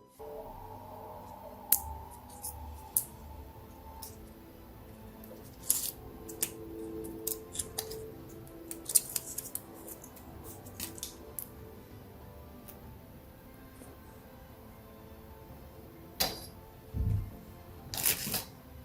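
A Type-C cable for an iPad Air 4 is unwrapped, its label peeled off in scattered crisp rustles and clicks, with a faint melodic call to prayer sounding in the background.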